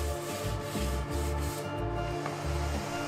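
Wooden walk-in closet parts get a light sanding between Danish oil coats: rhythmic back-and-forth rubbing strokes, close and steady, over a constant low background hum.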